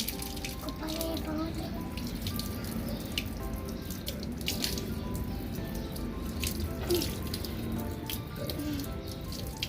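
A tap runs steadily into a sink while hands are washed at home, a constant close splash with small drips and spatters throughout and faint voices in the background.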